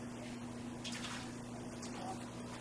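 Water poured into a plaster mixture, 125 millilitres measured out, giving a faint, steady liquid wash with a slightly louder splash early on, heard close and quiet with no talking.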